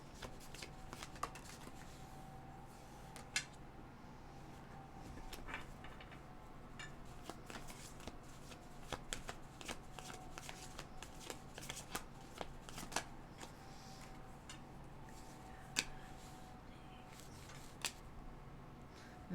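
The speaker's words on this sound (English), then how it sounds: "I am going to shuffle the cards out" Tarot cards are shuffled by hand in repeated soft riffling bursts and taps over a quiet background, sounding close and fairly faint, with no talking.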